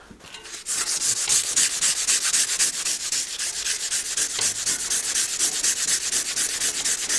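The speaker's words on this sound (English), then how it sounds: "So we're gonna take some emery cloth, just like this. It's basically sandpaper." Emery cloth rubbed around the rim of a Cannondale hybrid bicycle, a steady loud rasping scrub with a fast back-and-forth rhythm that runs without a break after a short quiet start, close up and with no one talking.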